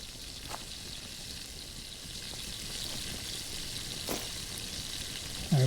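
Steady bubbling, sizzling hiss of water boiling in the video game The Last Plague: Blight, continuous and even, with a few faint clicks.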